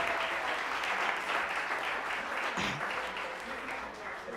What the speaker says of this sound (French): on applaudit, s'il vous plaît, la première série de questions d'histoire